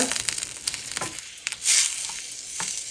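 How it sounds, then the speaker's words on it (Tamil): Tomatoes sauté in a pan while a ladle mashes them, giving soft sizzling with intermittent scraping and squishing taps and a brief hiss burst, fairly faint and close. "நல்லா வதக்கி எடுத்துக்கோங்க இந்த மாதிரி கரண்டி எதுவும் இருந்ததுன்னா அதை வச்சு நல்லா மசிச்சு விட்டுக்கோங்க"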